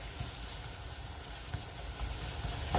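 Onions fry quietly in a pan for a steak dinner, a faint continuous sizzle with small pops and crackles and low-end rumble, no speech.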